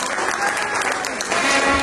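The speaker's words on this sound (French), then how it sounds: "je vous demande de l'applaudir d'ailleurs" Guests at a civil wedding ceremony in Troyes applaud in a dense, steady burst of clapping, close and sustained across the short moment with faint crowd noise mixed in.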